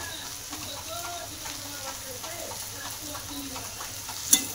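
Boiled potatoes and chopped coriander being stirred together in a hot pan for potato puri filling, a soft continuous sizzle with scraping spoon strokes and a sharp clink near the end, close by and steady.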